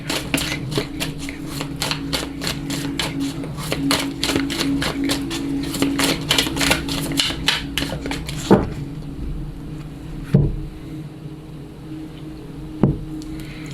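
Lenormand oracle cards riffling in a steady fast flutter of soft papery clicks for about eight seconds, then a few separate taps and knocks as the deck is cut and cards are laid down.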